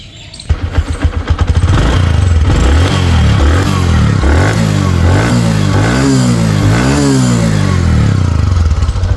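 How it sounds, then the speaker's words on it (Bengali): A second-hand Bajaj Platina 110cc motorcycle with about 8,000 km on it starts up close and loud, then runs with a throbbing idle and repeated revs that rise and fall in pitch. "এখন আমি আপনাদেরকে বাইকটার স্টার্ট করে সাউন্ড কন্ডিশন দেওয়া"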